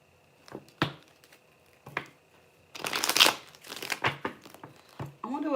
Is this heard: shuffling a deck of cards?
yes